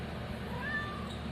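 A domestic cat meows once in a drawn-out, rising-and-falling call, fairly close and clear over a quiet indoor background with no talking.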